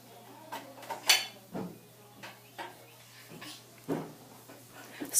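A spoon goes into a home dishwasher rack, making a few light, scattered clinks and knocks of metal against dishes, quiet and close, with faint murmured voices.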